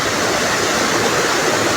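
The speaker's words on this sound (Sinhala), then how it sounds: "මේ වතුර යන ගඟ." A river rushing past below a house, a dense, loud, continuous roar of flowing water with no voices.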